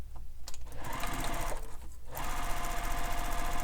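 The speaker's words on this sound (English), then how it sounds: "And then we're going to sew it using the seam allowance given in the pattern." A sewing machine stitches the side seams of a fabric bag, a close, steady rapid needle chatter with a brief pause and a faster, louder run at the end.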